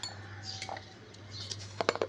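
A spoon clinks lightly against a bowl while red chili powder is added to curd, with a few soft metallic taps near the end over low background hum.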